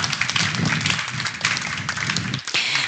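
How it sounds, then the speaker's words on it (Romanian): Brief, uneven clapping from an audience at a school team reading competition rises and dips in bursts, with sharp individual claps standing out close by. "Haideți să le mulțumim sponsorilor prin aplauze,"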